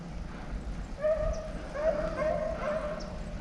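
Hunting dog on a rabbit chase gives distant, faint bay-like howls and yelps in a broken rhythm against steady outdoor background noise, with no talking.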